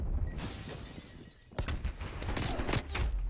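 A stun grenade goes off in Call of Duty: Black Ops Cold War, a sharp burst with a shattering crack, followed by more loud bursts of gunfire and impacts.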